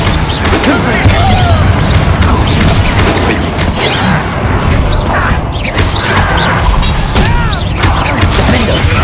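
Loud, dense spell-combat effects from the Hogwarts Legacy video game, booming blasts and crashing impacts as the Confringo spell is cast, with shouted incantations over the continuous din.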